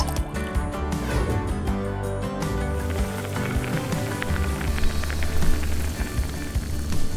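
Water poured into a container while making watermelon jelly in a home kitchen, a steady liquid run with dense splashing that holds its level throughout, with no talking over it.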